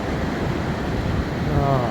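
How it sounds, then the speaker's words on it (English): Ocean waves wash steadily onto a Florida beach on a calm evening with a slight breeze, a continuous broadband surf rush with mild wind noise and no clear talk. "there's a slight breeze, and the waves are just right"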